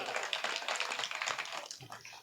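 Audience clapping at a Hindi comic poetry recital, a fast patter of many hands, moderately loud and somewhat uneven, with faint voices underneath.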